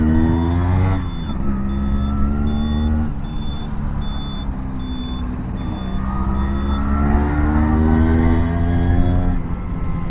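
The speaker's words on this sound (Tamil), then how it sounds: "அவ்வளோ டிராஃபிக்கு." Heavy festival-day road traffic on Shivaratri 2024 in Ranipet district roars steadily around a rider on an Rx100 motorcycle, with dense engine drone, rising revs and a repeated electronic beeping near the start.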